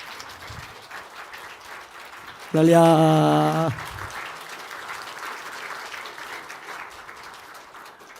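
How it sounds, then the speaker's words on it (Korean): Faint applause from a church congregation during a Sunday morning worship service, a soft steady patter under the room, with a voice briefly calling out loudly partway through. "대표로 받을 때 박수 한번 크게 쳐주세요"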